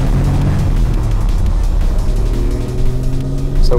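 A classic Porsche engine pulling hard after a downshift, a loud, close, rising engine roar with wind and road rush over it, continuous through the run.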